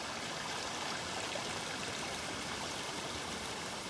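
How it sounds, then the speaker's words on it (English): A creek near the Hazelbrook Baths in the Blue Mountains runs over rocks in a steady, unbroken rushing wash, even and continuous, with no voices. "so this is the creek that leads down to the baths"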